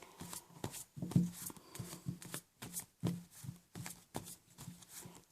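Tarot cards are shuffled by hand in quick, repeated riffling bursts with short gaps between them, close and fairly quiet.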